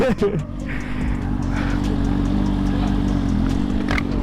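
Suzuki GSX-R1000 motorcycle engine droning loudly and steadily throughout, with a brief clatter and rev at the start, close and continuous as if from the rider's position.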